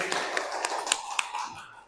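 Students in a classroom clap in a handful of sharp, evenly spaced claps, fairly faint. The claps soften and fade toward the end.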